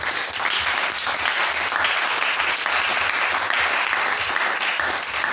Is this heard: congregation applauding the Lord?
yes